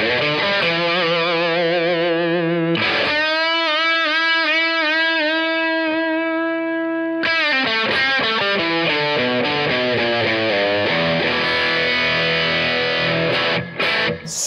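An Epiphone Les Paul Junior electric guitar played through distortion, sustained overdriven chords with vibrato and wavering bends, then faster riffing, loud and continuous with no voices.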